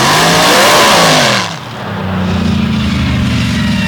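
Paddle tire class drag vehicle engine at a full-throttle run, a loud roaring blast that drops off abruptly, then settles into a steady, rumbling drone.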